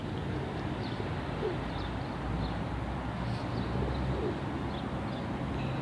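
Soft, low cooing from a red Bango pigeon runs through a dense, steady noise bed, with a few faint higher chirps scattered above it and no talking.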